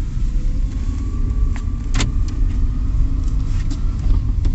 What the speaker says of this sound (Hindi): मैंने अब गाड़ी को धीरे धीरे आगे बढ़ाना शुरू कर दिया है।